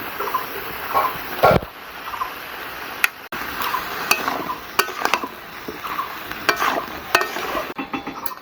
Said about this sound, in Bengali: ঝিঙেটাকে খুব ভালো করে কষিয়ে নিয়েছি